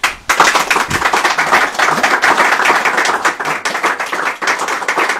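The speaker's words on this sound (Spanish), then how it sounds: "con el aplauso de los aquí presentes" An audience at a radio station's 50th anniversary event claps steadily, a dense, close burst of applause that holds for several seconds with slight swells and one brief dip.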